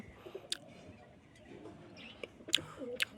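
Pigeons in a loft give soft, low cooing, faint and close, broken by a few sharp clicks and brief chirps against a quiet background.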